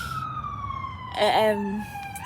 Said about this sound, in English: I always hear sirens where I live